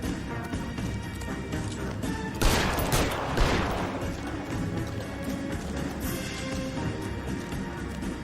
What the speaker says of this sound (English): Shoot him, for God's sake.